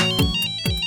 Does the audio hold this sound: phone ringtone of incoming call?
yes